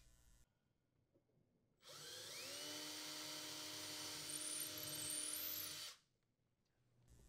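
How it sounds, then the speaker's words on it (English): A power drill with a 1/8 inch bit whirs loudly and steadily for about four seconds while drilling holes to install an electric range, its motor spinning up at the start and cutting off abruptly, with near silence around it. "Using a 1/8 inch diameter drill bit,"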